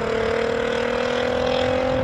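A Nissan Skyline R34 tuner car pulls out of the British Motor Museum exit with a steady, loud engine drone and a strong tonal hum, no voices.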